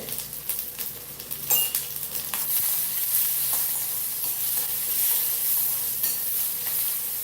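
Onion, carrot and beans sautéing in a pan with a little salt for a carrot beans poriyal: a steady, fairly soft sizzle with intermittent scraping and stirring knocks of a spatula, close by and with no talk.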